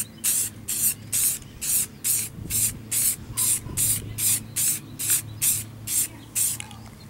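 An aerosol spray can lays clear coat over a freshly painted red engine bay cover, giving about a dozen short, evenly spaced hissing bursts of nearly equal length and loudness, close and alone with no talk.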